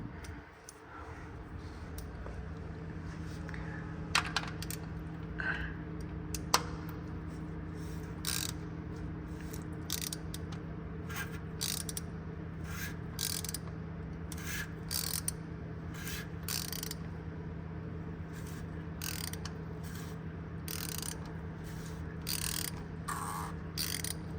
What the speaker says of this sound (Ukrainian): Так, беремо ключик.